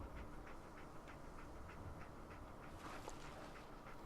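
Dogmeat, the dog companion in Fallout 4, pants steadily in quick rhythmic breaths, close and fairly soft over a continuous low game-ambience rumble, with no voices.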